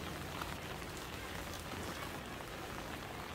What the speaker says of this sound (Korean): 비가 꽤 많이 옵니다